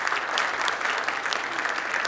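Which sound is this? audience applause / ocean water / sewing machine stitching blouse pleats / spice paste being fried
audience applause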